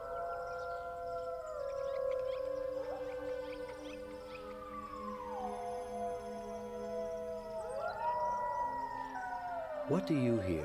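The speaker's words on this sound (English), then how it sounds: "What do you hear in the lonely howl of the wolf?" Several wolves in a pack howl in long overlapping glides, voices rising and falling in pitch and layering into a chorus that swells near the end, with no talking.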